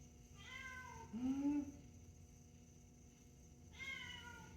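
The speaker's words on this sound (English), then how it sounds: "Come here, kitty, kitty, kitty." A cat meows in two short calls, one near the start and another near the end, over a steady low background hum, with a louder drawn-out vocal sound between them.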